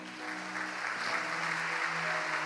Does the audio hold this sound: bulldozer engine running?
no